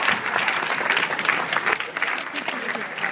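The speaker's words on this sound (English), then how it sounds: "Give yourselves a round of applause." Loud, close applause from an audience at an ASEA presentation, a dense wash of clapping that swells and dips slightly over a few seconds, with faint crowd murmur mixed in.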